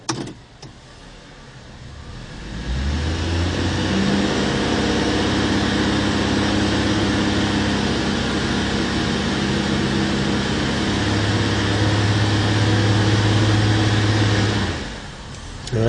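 Vehicle engine held under load with a steady droning hum that shifts in pitch partway through, then drops back toward idle near the end, fairly loud and close with no talking.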